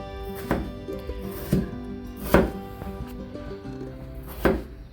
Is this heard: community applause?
no